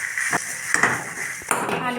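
Potato filling for aloo kulcha, seasoned with Kashmiri chili powder, is stirred and sautéed in a pan. Over two seconds there are a few close metallic scrapes and knocks of a spoon against the pan.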